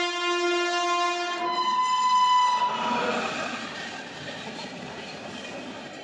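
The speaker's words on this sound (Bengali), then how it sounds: "এই যে গেট পড়ে গেছে আর এখন ট্রেন আসছে এদিক দিয়ে" A train passes a road level crossing with the gate down, its horn sounding in long tonal blasts at first, then giving way to a loud rumbling, clattering roar of wagons rolling by close, which slowly eases.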